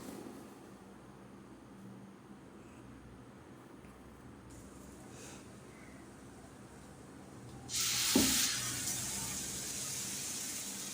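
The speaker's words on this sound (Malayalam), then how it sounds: "അങ്ങനെ ദോശ ചുട്ടെടുക്കുവാണ്." Dosa batter frying on a hot pan: a low, steady hiss that suddenly swells into a loud, bright sizzle about three-quarters of the way through and keeps crackling to the end, with no talk.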